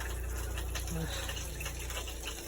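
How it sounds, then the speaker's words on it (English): An RV water pump on a 2016 Thor A.C.E. 29.3 hums steadily while water rushes through the lines. The noise is a constant, close, even drone with no talk. "Now let's turn the water pump back on"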